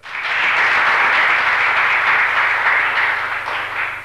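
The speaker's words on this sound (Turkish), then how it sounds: "Hemen güzel bir alkış geliyor." Steady applause from a television studio audience, loud and sustained for several seconds before tapering slightly.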